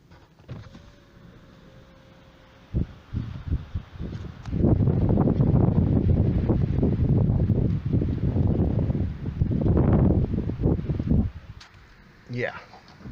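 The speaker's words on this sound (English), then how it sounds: "Windy as hell today." Strong wind buffets the microphone in loud, rough gusts with low rumbling, heard from inside a 2017 Dodge Challenger R/T, steady for several seconds between quieter stretches.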